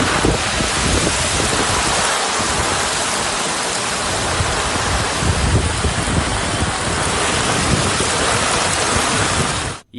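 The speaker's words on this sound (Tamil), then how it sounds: "திருமலையில் சுமார் அரை மணி நேரத்திற்கு மேலாக பெய்த மழையால் மலை பாதையில் தண்ணீர் பெருக்கெடுத்து ஓடியது." Heavy rain pours at Tirumala while water floods down a mountain road, a loud, dense, unbroken rush and hiss that holds steady throughout before cutting off abruptly at the end.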